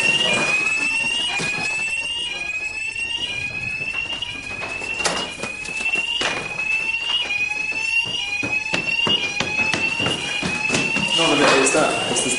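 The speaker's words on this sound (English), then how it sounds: "It's the smoke alarm up" A ceiling smoke alarm shrieks in repeated rapid piercing chirps that run throughout, with people talking over and around the loud beeping.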